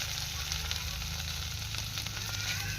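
Boiled potatoes fry with onion, garlic and chilli in a pan while being stirred, giving a steady, close sizzle with soft scraping throughout.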